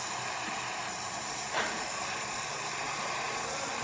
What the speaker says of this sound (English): As you can see, the steamer is working pretty good.